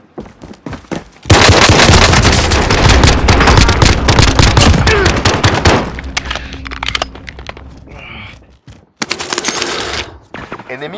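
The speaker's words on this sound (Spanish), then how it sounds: "¡Están disparando!" Loud, sustained automatic gunfire from a Call of Duty: Modern Warfare match hammers in rapid bursts for several seconds, then drops back and returns as shorter volleys, with game voices speaking over the fighting.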